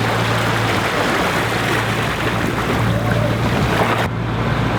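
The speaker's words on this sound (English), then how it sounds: "These are quite big waves." Big waves wash and churn around a sailboat out at sea, a loud steady rush of water and wind noise that cuts off sharply near the end.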